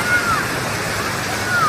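The waterfall on the Ogan River, at Desa Singapura in Semidang Aji, gives off a steady, loud roar of rushing water heard from above on a bridge. The noise fills the whole clip.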